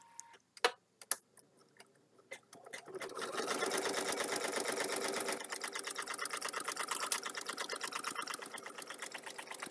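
A domestic sewing machine starts with a few scattered mechanical clicks, then runs in a steady, fast stitching rhythm for several seconds before settling into a softer, continuous whir, close and clear with no talking.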